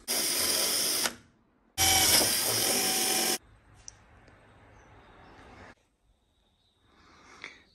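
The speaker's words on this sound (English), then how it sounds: "Drill a little bit down on that one so we can slide that through" A power drill fitted with a bigger bit bores a hole in a car body kit panel in two loud bursts of whirring, followed by quieter clicks and handling noises.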